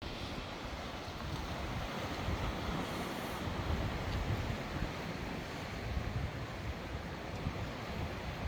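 Ocean waves at Chuam Beach on Korea's east coast, a steady broad roar of surf washing continuously with gusty wind noise on the microphone.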